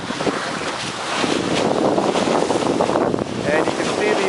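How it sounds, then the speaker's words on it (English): A sailboat under a code 0 sail on Lake Ontario crashes through waves in strong wind, with loud buffeting wind noise, rushing water and surging splashes throughout. "the size of waves that we are occasionally crashing through"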